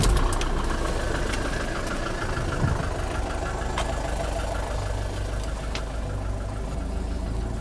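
A camper van's engine idles steadily, a continuous low mechanical rumble with a faint knocking texture that stays even and close for the whole stretch, with no talking.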